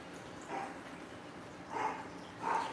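Dogs bark in short bursts indoors, three separate yelps spaced about a second apart, moderately loud against a quiet room with no talk.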